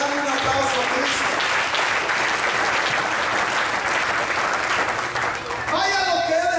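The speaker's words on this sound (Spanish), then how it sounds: "debe de darle un aplauso a Cristo" A church congregation breaks into loud, sustained applause, a dense wash of clapping that holds steady for several seconds, with a voice rising over it near the end.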